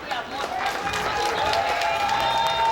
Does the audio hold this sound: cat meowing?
no